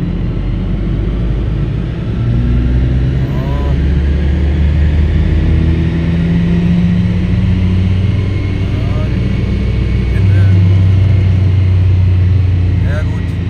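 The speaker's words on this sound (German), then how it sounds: "Fahrzeug beschleunigen" A BMW car at full throttle on a dynamometer produces a loud, sustained engine roar with rising tones through the gears, steady and close throughout.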